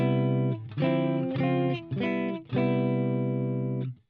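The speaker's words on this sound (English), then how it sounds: "That's exactly what that sounds like. A Fender amp to me." A clean electric guitar plays a short chordal phrase of several strummed chords through a warm Fender Princeton amp model tone, moderately quiet and alone, ending with a brief tail.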